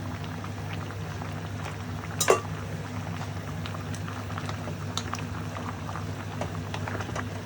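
A pot of chicken adobo simmering on the stove, with a steady bubbling boil and faint popping throughout and one brief louder clink partway through.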